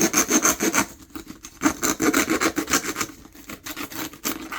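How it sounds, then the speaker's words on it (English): A hacksaw blade with fine serrations cuts through a lightweight mosaic board in quick, steady back-and-forth strokes, a close rasping scrape with no talk. "the hacksaw blade here, it's just got those tiny little serrations on the edge"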